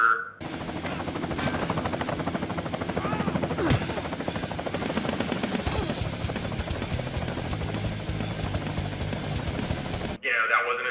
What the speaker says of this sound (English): it's a real helicopter, it's a real actor.